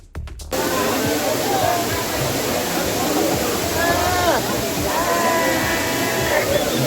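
Waterfall in Nigeria roaring in a loud, continuous wash of spray, with people talking and shouting faintly over it.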